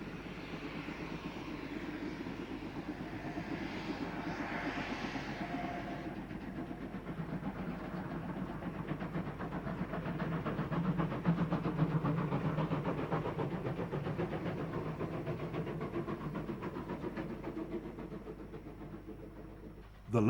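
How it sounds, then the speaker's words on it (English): Class 24 locomotive No. 3635 and Class 19D No. 2698 haul an eastbound passenger train between Dordrecht and Clark Siding, a steady, continuous rumble that swells slightly midway and persists throughout. "Class 24, number 3635, and 19D, number 2698, are in charge of an eastbound passenger train between Dordrecht and Clark Siding."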